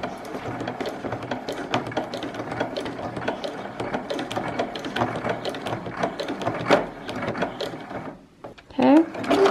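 A sewing machine runs a straight stitch through a coiled fabric rope bowl, a busy steady mechanical whir with rapid needle clatter, brief pauses and shifts near the end, with some background voice.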